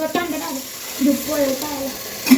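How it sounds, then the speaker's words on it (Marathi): Water is poured from small pots into a cooking pot, a brief close splashing gush that swells and fades, with a voice speaking over it. "दो तांबे पानी डालो"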